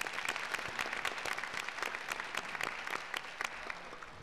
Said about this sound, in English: we could give them a round of applause because they were awesome